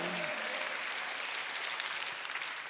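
A church congregation applauds during a Sunday worship service, a steady wash of clapping held at even loudness throughout, with a brief voice tail at the very start.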